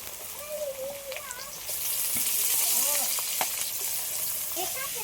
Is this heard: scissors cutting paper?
no